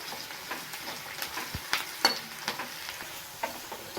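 Onions with a little salt frying in a pan with a steady crackling sizzle, broken by occasional scraping stirs and clinks of a utensil, close up with no talking.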